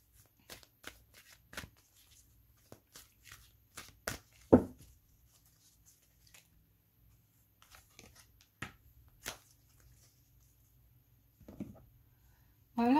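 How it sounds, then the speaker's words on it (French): Tarot cards are handled and shuffled at close range, giving scattered soft flicks and snaps separated by quiet gaps, with a brief burst of riffling near the end. "On va prendre une carte"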